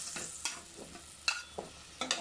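Potatoes are stirred into a spiced small-fish curry in a frying pan, steady soft sizzling beneath scraping strokes of a spoon that come in a few irregular bursts, close and fairly quiet, with no talking.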